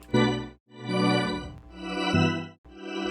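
Sustained synth pad chords from Phase Plant whose volume swells and drops in rhythmic pulses under LFO-automated gain, cutting to near silence between phrases before rising again.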